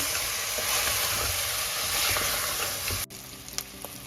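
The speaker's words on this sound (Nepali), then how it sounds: "अब यसलाई एकैछिन भुट्छु मैले।" Steady, dense sizzling of meat masala spices frying in a hot pan, loud and close, dropping suddenly to a quieter crackle near the end with a few sharp pops.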